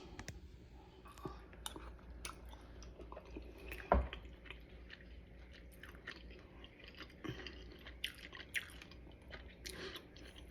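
A mouthful of loaded grits with egg is chewed close to the microphone, making faint, wet smacking and clicking mouth sounds, with one brief louder knock midway and quiet gaps.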